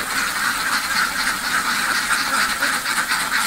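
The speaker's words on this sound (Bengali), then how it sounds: "দেখুন হাঁসগুলো সুন্দরভাবে খাচ্ছে এবং খাওয়ার পরে এখন বাইরে দেওয়ার চেষ্টা করছে।" Ducks on a duck farm quack steadily while feeding, a dense overlapping chorus of nasal calls close by with no pauses.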